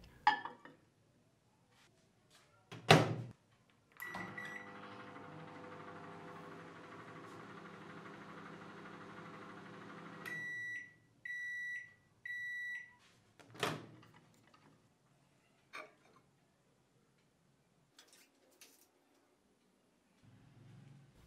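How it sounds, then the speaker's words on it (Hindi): A microwave oven cooks a chocolate mug cake, humming steadily for several seconds, then beeps three times in quick succession; door clicks and handling clatter come before and after. "फिर आप इसे माइक्रोवेव ओवन में एक मिनट पकाएं"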